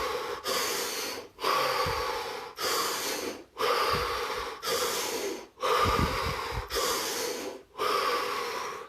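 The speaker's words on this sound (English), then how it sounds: "5 deep breaths." Deep, steady breathing in a guided relaxation session, heard as eight or so evenly spaced, close, airy breaths with short gaps between them, each swelling and tapering in a regular rhythm, without any talking.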